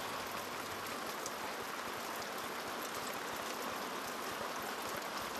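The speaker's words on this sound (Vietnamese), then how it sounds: "Trời mưa lớn quá à." Heavy rain pouring steadily, a dense continuous hiss of water falling on surfaces, faint and even with no voices.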